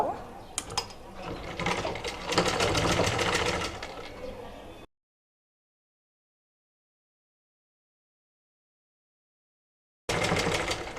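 Sewing machine stitching the side seam of a size 40 blouse, a close, rapid mechanical chatter of needle strokes in a sustained run, cut off by a long silence before resuming briefly.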